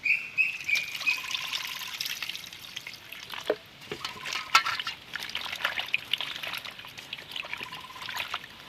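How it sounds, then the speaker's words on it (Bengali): Ash gourd pieces are washed in clean water, making a continuous soft sloshing and trickling with small splashes, close and moderately quiet, and no talk. "আরও একবার পরিষ্কার জল দিয়ে ধুয়ে নিচ্ছি।"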